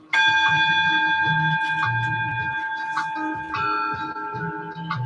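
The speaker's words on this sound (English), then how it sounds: "We're going to give you another bell." A struck bell, likely a singing or meditation bell, rings out with sustained steady tones and long shimmering decay, restruck a few times over five seconds, with low murmuring voices underneath.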